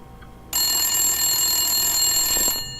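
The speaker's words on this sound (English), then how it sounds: "Phone's ringing. Phone's ringing." A telephone in a game rings loudly and steadily for about two seconds after a quiet start, then cuts off, with no talk over it.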